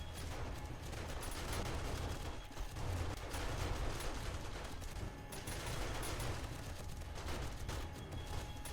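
SMG and shotgun turrets firing on horde night in 7 Days to Die, a dense, continuous rattle of automatic gunfire mixed with heavier blasts, sustained at moderate level without a break.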